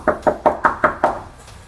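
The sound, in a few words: knocking on an apartment door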